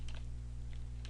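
Several light key clicks from a computer keyboard being typed on, scattered across a second over a steady low electrical hum, with no talking.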